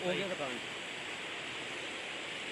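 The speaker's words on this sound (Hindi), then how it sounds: "अब बढ़ रहा है पानी, ऊपर बारिश होगी ना, अब बढ़ रहा है, पानी बढ़ने लग गया" A swollen river rising after rain rushes steadily, a broad continuous roar of flowing water heard nearby, with someone briefly talking at the start.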